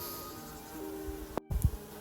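Mason bees (Osmia) buzz in a steady, close drone, with a few louder passes and faint bumps near the end.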